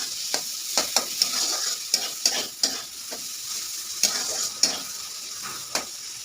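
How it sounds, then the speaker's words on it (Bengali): Chopped onions sizzle in hot oil under a soft crackle while a utensil stirs them, giving a dozen or so sharp scraping strokes at an uneven pace, close up and without speech. "তেলটা গরম হয়ে গেছে, এখন পেঁয়াজ কুচি দিয়ে দিলাম। এবার আমি নাড়াচাড়া করবো"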